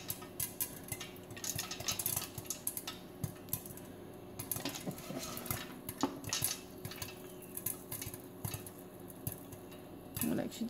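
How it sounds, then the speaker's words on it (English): Popcorn kernels rattle and scrape in an oiled pot shaken on a stovetop, a continuous jostling clatter with occasional metallic knocks, moderately close and fairly quiet. "the reason you just shake it like that is just so all the popcorn or the kernels are always just covered in"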